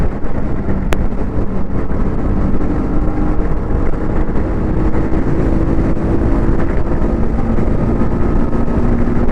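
2025 TVS Apache RR310 race motorcycle, trellis frame, ridden at speed, a loud steady engine drone with rushing wind buffeting the microphone, continuous and close, with no talk.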